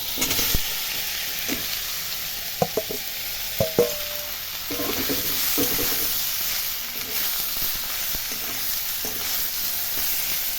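Spice masala fries in a pan with vegetables fried earlier, making a steady bright sizzle. Spoon clinks and scraping stirs land in short bursts, including a metallic ring, with no talking.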